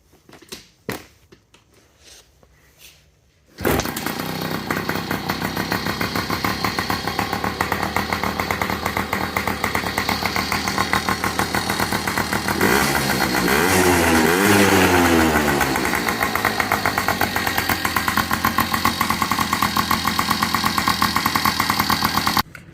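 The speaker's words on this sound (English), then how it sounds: "I got the bike running as you saw in that last clip" A Yamaha PW50 dirt bike engine, just restored after its carburetor was cleaned, fires up after a few seconds of quiet handling noises, then runs loudly and steadily with a rapid buzzing two-stroke rattle, briefly revving midway, close by.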